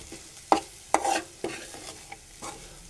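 Green chillies stir-fried in a pan, a few scraping spatula strokes over a light sizzle, spaced irregularly and fairly close.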